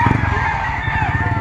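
Gamefowl roosters at a Padre Garcia, Batangas auction market, a dense layered din of crowing and calls filling the scene without pause, close and loud.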